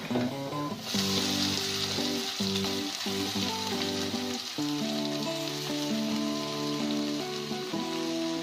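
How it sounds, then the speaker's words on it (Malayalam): Rubbed taro stems fry with onions in a clay pot, a loud, steady sizzle and crackle that runs throughout beneath background music. "ഇനി ഇതിലേക്ക് നമ്മൾ തിരുമ്മി വെച്ച ചേമ്പിൻ തണ്ട് ഇട്ട് കൊടുക്കാം"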